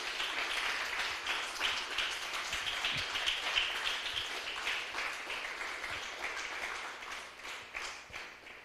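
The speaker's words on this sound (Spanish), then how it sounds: "Denle un aplauso fuerte al Señor" A church congregation claps in praise during a Spanish-language sermon, a steady, fairly soft patter of many hands that thins slightly toward the end.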